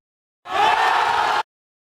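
A crowd at a League of Legends esports match, LCS Summer Playoffs, gives a short roaring cheer that lasts about a second and cuts off sharply.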